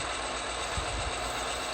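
HO scale model train L579, a CN, IC and GTW consist, rolling steadily along the layout track with a continuous wheel rumble and faint clicking over rail joints, close and without talk.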